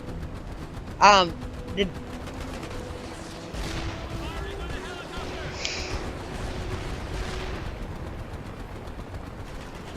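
Gunfire in the Mercenaries 2 video game, a few sharp shots early on followed by a steady rumble of distant firing and explosions, with a voice talking over it.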